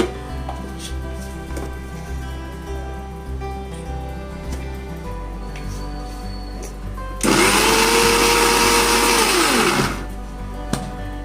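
A mixer grinder blends fried onion and tomato into paste for palak paneer, a loud, steady whirring burst of about three seconds rising out of a low kitchen hum, then cutting off abruptly.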